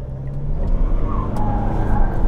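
A Mitsubishi L200 Strakar rear-wheel-drive pickup accelerates on a paved road, its engine note rising under a steady rumble of tyres and wind, close and moderately loud.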